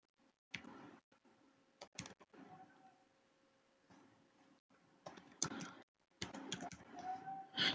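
Typing on a laptop keyboard comes in irregular bursts of quick, close clicks and key taps, separated by short pauses, with no talking.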